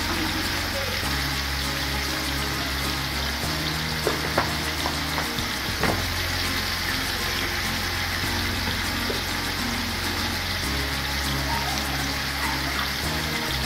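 Tomatoes fry in a pot for mutton pulao, giving a steady loud sizzle with a low background hum, a few clinks of a utensil stirring, and a voice talking briefly partway through.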